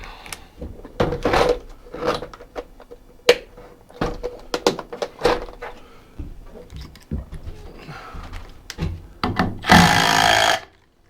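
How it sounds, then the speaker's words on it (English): A power drill bores long holes for lag bolts into wooden interior framing of a Born Free camper, with short bursts of drilling and knocking among clattering tool handling and brief talk nearby. "drill some nice long holes, lag bolt that"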